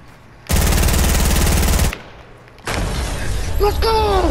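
Fortnite gunfire rattles in a dense automatic burst, then after a brief pause a second loud volley mixed with game effects, close and harsh.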